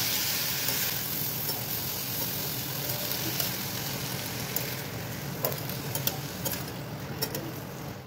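Boiled corn for corn chaat being mixed in a pan, a dense continuous hiss with soft stirring and a few light scrapes and ticks toward the end.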